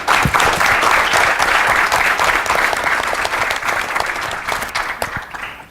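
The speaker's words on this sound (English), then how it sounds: "So huge round of applause for Mr. Davidson." A large audience at an educators' event gives a big round of applause, loud dense clapping that holds steady for several seconds and then slowly thins out.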